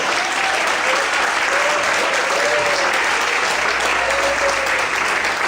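Loud, continuous applause from a church congregation praising God, a dense close wash of clapping with faint cheers or whistles rising over it throughout.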